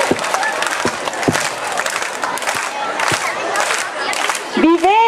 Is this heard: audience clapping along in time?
yes